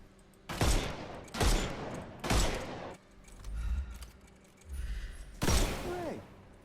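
Bursts of video-game gunfire in the Sherlock Holmes game, shooting armor off enemies: four loud, rapid volleys spaced about a second apart, with low rumbling thuds between them and a ringing metallic tail after the last.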